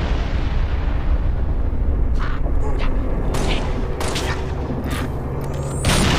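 Grenades thrown by Grunts go off in Halo Reach: several deep booming blasts arrive in separate bursts over a continuous rumble of battle noise, with the last explosion the loudest.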